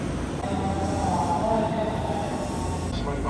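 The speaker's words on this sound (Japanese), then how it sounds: "泉佐野駅を13時49分に発車する特急サザン和歌山市行きです" A Nankai limited express Southern train bound for Wakayamashi arrives at Izumisano Station, a steady loud rumble of wheels and carriages rolling close by, with a faint squeal running through the middle.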